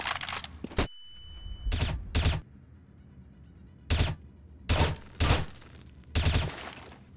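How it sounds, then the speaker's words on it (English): A flashbang grenade goes off in a first-person shooter on the Cache map: loud broadband bursts, one followed by a thin high ringing tone, then several more sharp, close bangs spaced irregularly over the next few seconds, with no talking. "Throwing flashbang."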